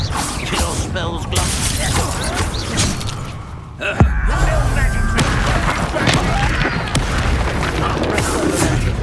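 A Confringo blasting spell explodes in Hogwarts Legacy with a sharp, loud boom and crackling debris, set amid continuous dense game noise and a voice talking throughout.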